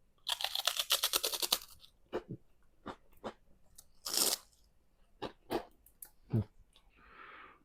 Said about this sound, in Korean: 라이스페퍼라면 이렇게 바삭하게 돼요